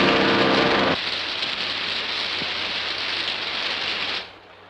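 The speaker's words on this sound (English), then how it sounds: "Well, there's your rain, but good." Steady rain hisses in a broad, even wash, loud and close, with a faint low hum beneath; it drops off abruptly near the end.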